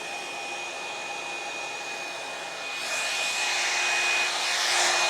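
A hair dryer runs steadily while blow drying hair during an at-home salon blowout with Velcro rollers, a constant close whir with a thin high whine that grows louder and breathier partway through.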